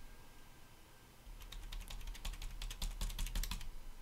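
A run of crisp computer keyboard key clicks starts after a quiet second, tapping in quick irregular bursts, close and fairly loud, during play of The Stanley Parable.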